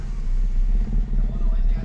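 A small-body Toyota Corolla engine with oil enhancer just added idles close by in a steady, low, throbbing rumble with a faint mechanical clatter, its level wavering slightly.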